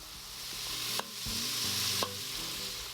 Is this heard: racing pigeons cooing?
no